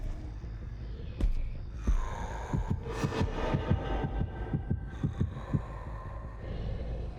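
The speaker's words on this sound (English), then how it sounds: "I heard a heartbeat, but I didn't see where it was." Heartbeat in the Dead by Daylight video game thumps steadily in a rhythmic series of low pulses under a muffled game ambience.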